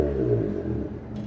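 Exhaust note of a supercharged Honda EF Civic at idle, a short low burbling rumble heard close by with no voices.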